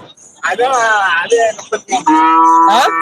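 Cattle mooing at the Melapalayam cattle market, several long, loud, close bellows with breaks between them and a busy market in the background.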